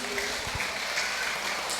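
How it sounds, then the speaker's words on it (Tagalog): A church congregation at a Sunday worship service clapping together, a dense, even stretch of applause with a few louder claps near the start and a faint voice underneath. "mas malakas pang palakpak para po sa ating Panginoon"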